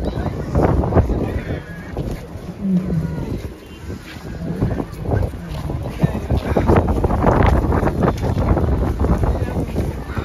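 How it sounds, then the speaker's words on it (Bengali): Strong, bitterly cold wind buffets the microphone outdoors during New Year's Eve celebrations in Russia, a loud continuous rumbling roar under a voice talking throughout. "প্রচুর বাতাস, বাতাস অনেক ভয়ঙ্কর, বাতাসে প্রচুর ঠান্ডা"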